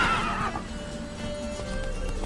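Horse hooves clop and the horse whinnies as it sets off at a gallop in The Witcher 3: Wild Hunt, the neigh loud at the start before rapid hoofbeats continue briefly, with no talking.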